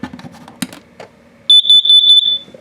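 An RV carbon monoxide and LP gas detector in a 2021 Gulfstream Innsbruck 279BH gives a loud, shrill, rapidly pulsing electronic alarm, close by, right after a few quiet clicks and button sounds.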